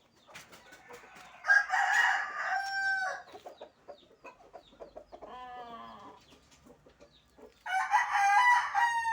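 Crossbred roosters (labuyo father, native chicken mother) crow loudly in long drawn-out calls, with softer clucking between them, close by.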